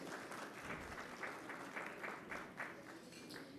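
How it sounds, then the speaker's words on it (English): An audience at the GEZ Expo 2019 conference applauds a speaker with dense, steady clapping that holds evenly throughout, heard from a distance and at low level. "A round of applause, please, ladies and gentlemen."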